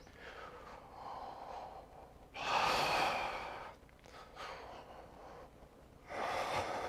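Deep yoga breaths drawn in and let out slowly, soft and close, with a longer, stronger exhale surging midway and another at the end.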